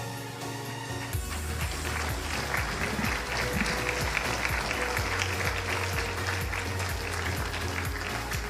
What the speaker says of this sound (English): please join me again in a round of applause for our graduates